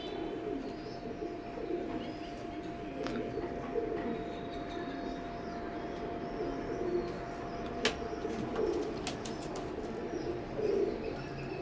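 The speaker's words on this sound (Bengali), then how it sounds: "এইখানে একজোড়া সাকি লাইনের কবুতর আছে, সাকি 10 নম্বর। তো কবুতর দুইটাই ইম্পোর্টেড কবুতর" A pair of imported Saki line teddy pigeons coo softly in repeated low, rolling phrases, joined by occasional faint chirps and a steady background hum, with no talking.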